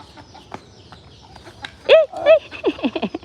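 A chicken clucks in a rural yard, a few quick calls rising out of steady background noise and followed by a run of shorter clucks, fairly close and moderately loud.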